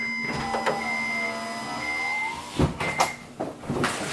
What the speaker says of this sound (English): I'm gonna put my window up here.